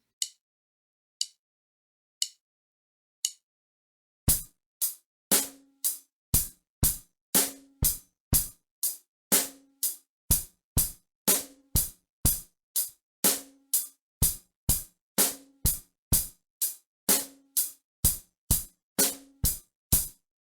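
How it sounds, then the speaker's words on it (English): Drum kit beat with a bass drum, snare and hi-hat in steady time, played up close and alone, with two bass drums in a row at the end of each bar; a few sparse count-in clicks open the pattern. "I'm going to go ahead and add another bass drum to the very end of the beat."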